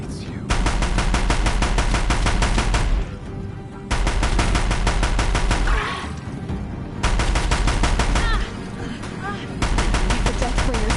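Heavy automatic gunfire in Horizon Zero Dawn during a battle at a bridge, loud rapid bursts that stop and start again several times.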